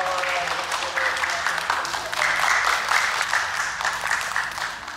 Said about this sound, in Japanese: じゃあ拍手で迎えましょう。